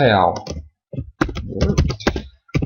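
Keys click on a computer keyboard while a value is entered in an Excel spreadsheet, a few quick taps mixed in with a person talking over them.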